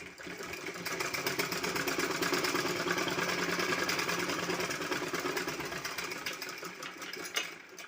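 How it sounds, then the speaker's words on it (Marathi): A sewing machine stitches an old shopping bag, its needle running in a fast, even, close mechanical whir for several seconds before slowing to a stop. "दोन्ही सा साईडने आपला स्टिचिंग करून घ्यायची आहे"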